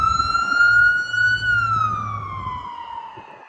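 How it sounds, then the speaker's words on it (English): Ambulance siren passing along a Harlem street in New York, a loud wailing tone that holds steady and then drops in pitch as the vehicle moves past and away. "there was an ambulance that just went by"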